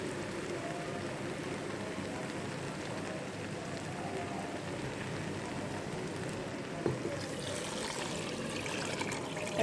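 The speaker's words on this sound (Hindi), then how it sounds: "पानी शामिल कर देंगे।" Water pours steadily into a pot of fried rice for a pea pulao, making a continuous close hissing splash that runs nearly ten seconds without speech.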